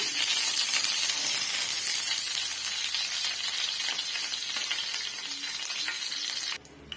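Curry leaves hit hot oil on a tava for a fish fry, giving a loud, dense, continuous sizzle that crackles steadily before dropping off abruptly near the end.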